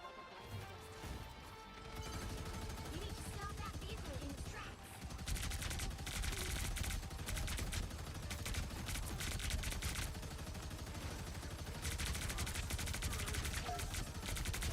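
Continuous automatic turret fire in Marvel Rivals, a loud, dense rattle of shots and impacts sustained for many seconds amid other combat noise.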